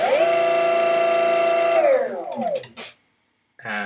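An electric skateboard BLDC motor driven by a VESC controller through a nunchuk whines loudly at a steady pitch, then winds down in a falling tone, followed by a brief click and a short restart whir.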